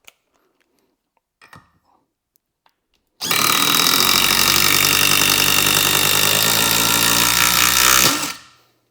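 A Dewalt impact driver runs continuously for about five seconds, driving a screw with a loud, steady rattling hammer that stops abruptly, after a few quiet handling clicks.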